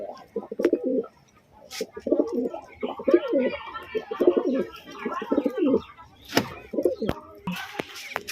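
Flying pigeons in a loft coo repeatedly up close, in rhythmic bursts of soft throaty calls with short pauses between them and a few faint chirps.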